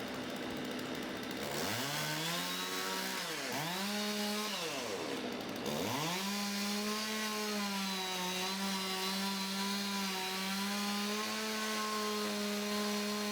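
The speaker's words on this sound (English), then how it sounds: "The chainsaws, renowned for their reliability and cutting power, proved essential in tackling the thick, aged wood of the white fir." A chainsaw cuts thick, aged white fir, loud and close, its engine pitch dipping and recovering several times as the bar bites into the wood, then holding a steady high whine; no voices.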